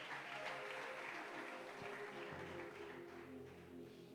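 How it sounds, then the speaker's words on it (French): A congregation applauds the newly baptized at a church service, with steady sustained clapping from a large crowd throughout, fairly distant and soft. "Est-ce qu'on peut acclamer pour eux?"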